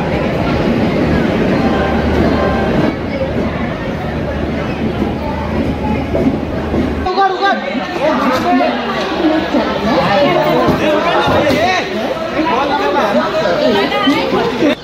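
A crowd of passengers on an Indian railway platform waiting for the Kochuveli Express, with dense, loud, overlapping chatter throughout and a deep rumbling hum under the voices in the first half.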